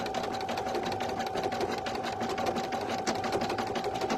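A single-needle domestic embroidery machine stitches steadily, its rapid even needle chatter continuous and close with no talk.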